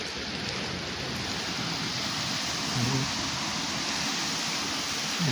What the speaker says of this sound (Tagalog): May mga alon, malalaki ng alon.